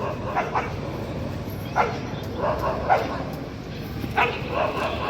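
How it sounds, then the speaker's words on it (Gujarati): Dogs fight outdoors near a clinic in Vadnagar, with several sharp barks and yips in bursts over a constant background din, and people talking at the same time. "જો કૂતરો લડ્યા।"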